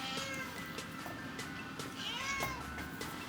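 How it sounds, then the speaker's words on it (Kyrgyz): Cats meow several times at moderate distance, with short rising and falling calls over steady background noise. "Ана мышыктар жүрөт."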